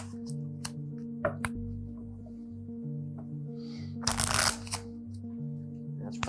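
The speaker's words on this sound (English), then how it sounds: "Rick, give the cards a shuffle." A deck of playing cards shuffled by hand during a magic show, with crisp riffles and a loud burst of flutter partway through, over a faint steady hum.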